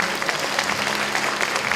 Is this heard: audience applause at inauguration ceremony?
yes